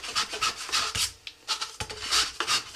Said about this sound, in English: We'll also grab the liner, same sandpaper. Take a little of the edge